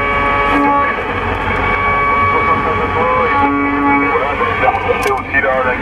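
CB radio static and buzzing interference from a car hum steadily with tonal whines and crackles, while a person talks over the noise.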